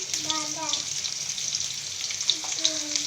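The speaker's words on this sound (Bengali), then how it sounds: "এটাকে এবার ভেজে নেব ভালো করে ভেজে নেব" Onion and garlic fry in a pan with a steady close sizzle, while a voice speaks briefly at the start and again near the end.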